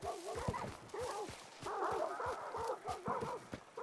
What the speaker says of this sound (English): Oh, I set off the dogs.